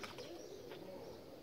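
A pigeon coos softly outdoors on a summer day, a faint, low, rolling call repeated a couple of times against quiet background ambience.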